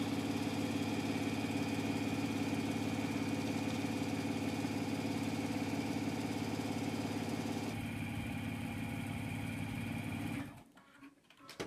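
Sewing machine running steadily and close while stitching an expanding zipper, a continuous motor whir that stops abruptly near the end.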